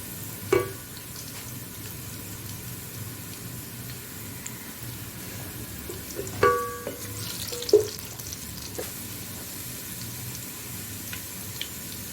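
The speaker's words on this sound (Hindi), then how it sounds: "प्याज को हमने ब्राउन कर लेना है।" Onions browning in a pan sizzle softly and steadily, with occasional scrapes and clinks of a spoon stirring them at irregular moments.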